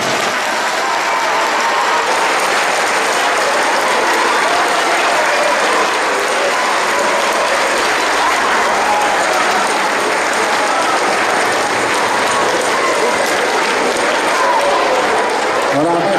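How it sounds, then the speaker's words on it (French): Scout units of boys and girls applaud their leaders at an outdoor scout gathering in Landévennec, a dense, steady crowd clapping that fills the whole stretch loudly and evenly without letting up. "je demande aux unités, garçons et filles, d'applaudir vos chefs et vos maîtrises"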